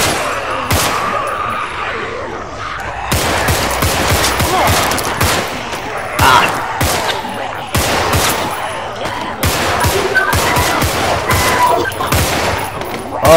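Dense, continuous gunfire in the zombie shooter LAG: Contagion, with rapid repeated shots and bursts layered over one another across the whole stretch, loud and close throughout, with no speech.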